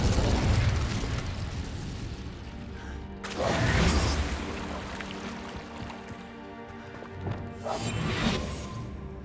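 An Incendio fire spell blast in the Hogwarts Legacy video game, a whooshing fiery burst followed by two more roaring blasts with crackling tails, loud and close, spaced several seconds apart.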